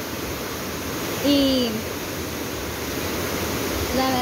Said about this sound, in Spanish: les queríamos mostrar este río, ¿verdad? Que pues la verdad creció